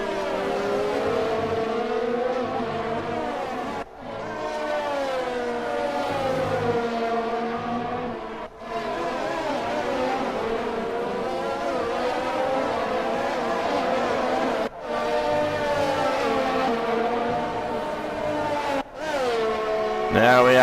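Formula 1 race cars in F1 2020 at the Australian Grand Prix, engines whining in long rising and falling gear sweeps with short pauses at the gearshifts. The roar is loud and steady, and a voice talks over it.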